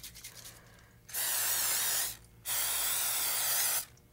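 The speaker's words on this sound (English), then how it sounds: "We're spraying our hands with cooking spray so they don't stick to the gooey mixture." Two long, loud hissing bursts of cooking spray from an aerosol can onto hands, separated by a brief pause.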